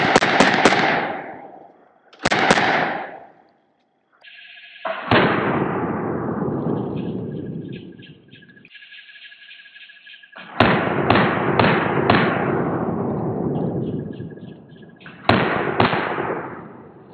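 Bursts of Uzi gunfire aimed at budget Level IIIA body armor ring out loud and close, several sharp rapid volleys with long echoing decays between them and a faint electronic beeping in the gaps.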